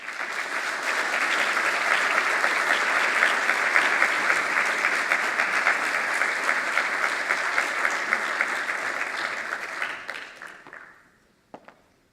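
An audience at an ambassador lecture gives a sustained round of applause to welcome Ambassador Piragibe dos Santos Tarragô, a full, steady roar of clapping for about ten seconds before it fades out, leaving a few scattered claps.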